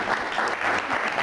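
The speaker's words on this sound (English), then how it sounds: "Big round of applause for the lady." An audience applauds a lady with steady, close clapping that fills the whole short moment.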